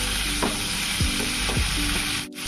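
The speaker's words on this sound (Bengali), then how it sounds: "আমি এখন এই ছোলার সেদ্ধটা দিয়ে নিচে নেড়ে নেব" Boiled chickpeas being stirred with ground cumin and coriander in a frying pan, a steady close sizzle broken by a few scraping strokes of the spoon, with no talking.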